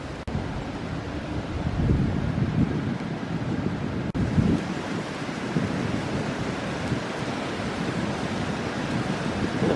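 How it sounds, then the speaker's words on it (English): Strong morning wind blows across a hiking area in a park, a loud, continuous roaring rush buffeting the microphone, with a couple of faint clicks and no voices. "The wind is very strong this morning."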